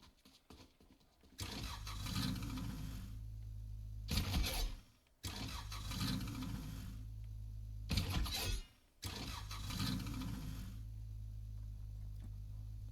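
A Xentari car engine in a video game starts up three times, each start rising into a loud, rumbling idle that then cuts off, followed by a brief pause before the next start; no talking.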